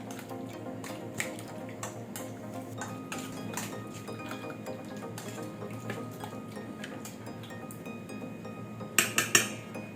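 Chicken liver and gizzard being stirred with salt and black pepper in a bowl, giving soft, quiet clinks and scrapes of utensil against dish, with a short burst of sharper clinks near the end.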